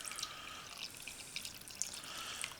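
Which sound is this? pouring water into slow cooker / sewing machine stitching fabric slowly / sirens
pouring water into slow cooker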